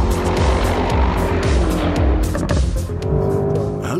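A camouflaged Porsche Cayenne prototype capable of over 300 km/h, driven hard: the engine roars loud and close, revs rising and falling through gear changes, with tires squealing over a steady rush of road noise.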